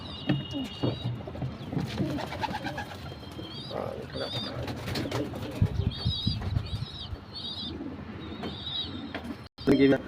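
Flying pigeons, kept for flight, coo in repeated rolling calls amid fluttering wingbeats close by, with someone talking throughout and a sharp flap near the end.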